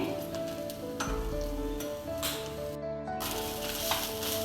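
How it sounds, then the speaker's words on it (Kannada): Grated coconut and onion fry on a low flame in a pan for a Kundapura-style country chicken curry, giving a steady close sizzle with a few stirring scrapes and no talking. "ಇದೆಲ್ಲವನ್ನು ಸಣ್ಣ ಉರಿಯಲ್ಲಿ ಫ್ರೈ ಮಾಡಿಕೊಳ್ಳಿ."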